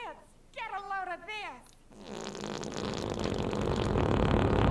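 A long, loud, sputtering fart sound effect from the animated movie Robots builds and swells in intensity, following a burst of cartoon character speech.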